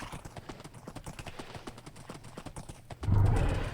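Horse hooves clip-clop in a quick, steady rhythm in the Minecraft video game, close and distinct for about three seconds, then a louder burst of horse noise closes it out; no voices over it.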